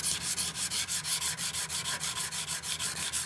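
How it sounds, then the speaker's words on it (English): Steel gun metal being hand-polished with 120 grit abrasive: quick, even back-and-forth rubbing strokes, about five per second, close and steady with no talk. "So I'm just gonna do a little bit of cross polishing on here."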